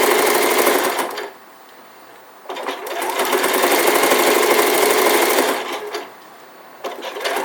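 Sewing machine stitching around the seam of a felt elf hat, loud close bursts of rapid needle hammering broken by two brief pauses, with the motor starting and stopping between runs.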